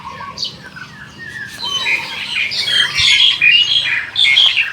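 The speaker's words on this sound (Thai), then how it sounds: "โอ้นกนี่มากินทุกเสาเลยเสียงดัง" Loud birds squawking and chirping in a morning garden near ripe fruit, several shrill calls overlapping close by and growing busier toward the end, with no talking.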